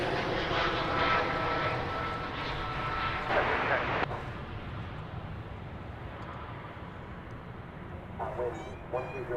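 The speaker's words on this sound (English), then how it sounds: "To catch the arrival of an Airbus A319 arriving from Monterrey, Mexico." An Airbus A319 jet arriving at DFW airport gives a sustained engine roar that swells and then eases into a steadier rumble, with a voice talking over it.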